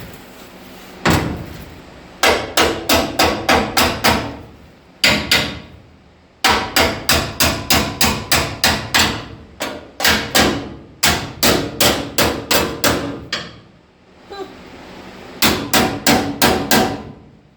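Steady, loud hammer blows tapping a metal part back into place before welding, coming in rapid rhythmic runs of sharp metallic strikes with brief pauses between the series.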